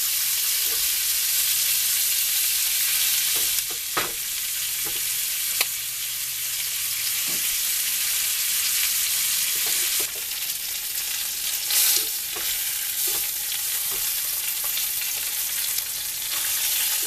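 A salmon fillet fries skin-side down in a pan, a constant bright hiss of sizzling oil running throughout with occasional clicks and light pan knocks, no talking.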